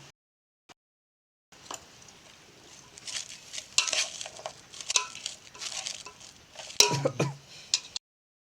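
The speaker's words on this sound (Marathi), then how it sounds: "तर चांगलं मिश्रण करून घेतो मी" Jackfruit vegetable being stirred in a small, overfull pot, with a spoon scraping and clinking against the metal over a soft sizzle, starting after a short silence and growing busier toward the end.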